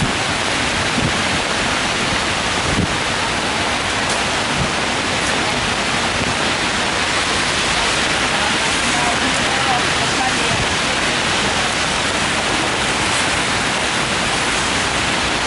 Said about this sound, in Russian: дождь усилился